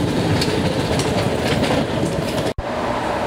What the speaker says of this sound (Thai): ตอนนี้อยู่ที่พอร์ตไลเนอร์กำลังจะต่อรถไฟเข้าไปในเมืองนะ